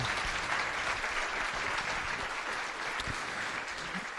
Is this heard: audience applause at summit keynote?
yes